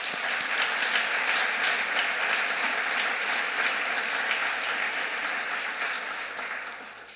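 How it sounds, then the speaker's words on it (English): Sustained audience applause at the ICOP 2016 closing ceremony, a dense steady wash of many hands clapping that holds loud and even throughout before easing slightly at the end. "should get a special applause"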